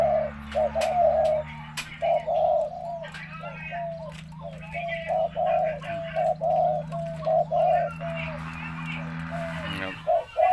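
A dove coos repeatedly in a steady rhythmic series of soft low calls, fairly close, over a faint background hum.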